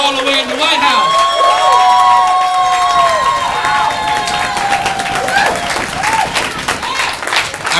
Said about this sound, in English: why don't you all celebrate yourselves right now with a great big round of applause?